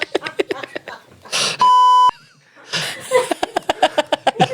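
A steady electronic censor tone about half a second long cuts across lively conversation, with people talking and laughing before and after it.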